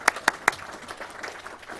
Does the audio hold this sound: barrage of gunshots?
no